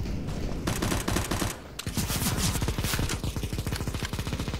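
Rapid automatic gunfire from a Counter-Strike: Global Offensive match, loud bursts of shots in quick rhythm with a brief pause, then a long sustained string of fast shots.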